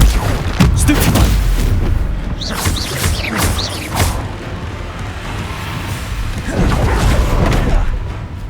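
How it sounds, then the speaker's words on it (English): A Stupefy spell fired during a Hogwarts Legacy battle: repeated sharp blasts and booming impacts, loud and close, in clusters with brief lulls between them. "Stupefy!"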